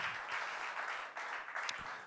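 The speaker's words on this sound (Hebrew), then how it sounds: "מחיאות כפיים לכם" An audience claps at the Drummers4Drummers drum festival, a lively burst of many hands with uneven swells, moderately loud and close, ending after about two seconds.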